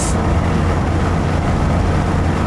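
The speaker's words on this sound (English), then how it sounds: "Revs are building slowly because it's only a 4-speed gearbox." A 1982 Ford Escort 1.3L Mk3 with a four-speed gearbox accelerates, its engine a loud, steady drone as revs build slowly, mixed with road noise.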